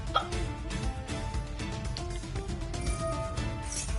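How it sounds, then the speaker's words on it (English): One loud hiccup bursts out near the start, then soft, steady background game sound and music carry on without a further clear hiccup. "You got some loud hiccups, buddy."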